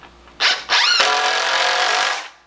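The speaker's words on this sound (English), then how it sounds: "you need to put 4 screws in each board" A power drill drives screws into 2x4 lumber, with two short whirring bursts followed by a long, loud, steady run as a screw seats fully into the board, close up with no talking.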